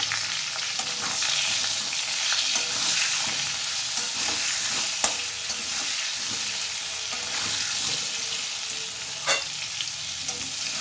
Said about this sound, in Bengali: এবার আলুটা খুব ভালো করে ভেজে নেব।